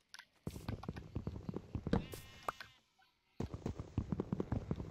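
Sheep bleat in the video game Minecraft, with several short bursts of wavering bleats and game sounds, broken by a brief near-silent pause before more bleating returns.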